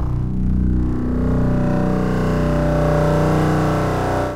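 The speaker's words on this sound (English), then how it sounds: "so in this first example I've just got a wavetable sweep" A wavetable synth sweep in Ableton plays alone as a loud, sustained, buzzy tone whose harmonics shift steadily across its length, ending abruptly.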